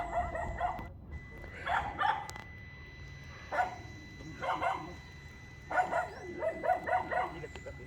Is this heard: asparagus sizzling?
no